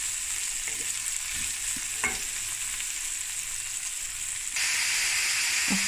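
A pot of minced-meat one-pot dish cooks on a stovetop at medium to low heat, with a steady sizzle and hiss and a few soft scraping stirs, the sizzle growing louder near the end.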